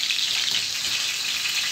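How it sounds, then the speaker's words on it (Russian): Chebureks fry in hot oil in a pan, giving a steady, close, bright sizzle that carries on without a break, with no voices. "На одной сковородке, девочки, чебурек у меня вот этот пожарился."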